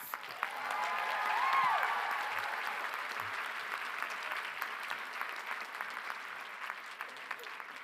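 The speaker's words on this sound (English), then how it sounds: "Another round of applause." Graduates and guests at a college commencement applaud, a wide crowd of clapping that swells early, then settles into a steady, somewhat distant roar that carries to the end.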